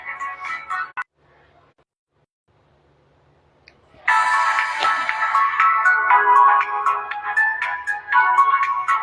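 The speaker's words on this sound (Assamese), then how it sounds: "লাইভ চলি থকা সময়ত মানে ফোন কৰিলে ফোনটো" A mobile phone ringtone goes off during a live online sale of handloom mekhela chador clothing, a loud repeating electronic melody starting midway and playing on alone after a short burst and a silence.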